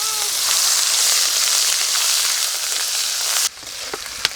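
Whole spices with onion and garlic paste fry in hot mustard oil, a loud close sizzling hiss that drops off sharply near the end, leaving a few faint pops and clicks.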